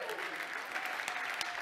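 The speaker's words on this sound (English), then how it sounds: "Would you give my wife a round of applause" A church congregation gives a short, steady round of applause, a dense wash of clapping from the crowd lasting under two seconds.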